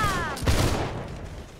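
A volley of musket fire from a line of infantry in the game Holdfast rings out as one dense burst, close and loud, then fades into a rumbling echo.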